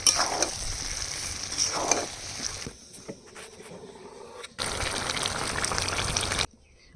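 Chicken and cauliflower cooked down in their own fat in a pan, producing bursts of frying and stirring scrapes that fade to a brief near-silence, then return as a loud sizzle before stopping abruptly.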